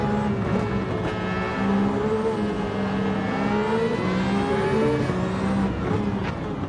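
Ferrari VGT race car in Gran Turismo 7, a high engine whine rising and falling with gear changes as it races close behind other cars, steady and continuous.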